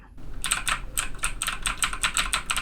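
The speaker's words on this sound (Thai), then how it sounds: "เสียงที่เกิดขึ้นตรงคีย์บอร์ด" Rapid keystrokes clatter on a computer keyboard, picked up by a FIFINE A8 microphone, a quick uneven run of crisp clicks, close and clear with no talking.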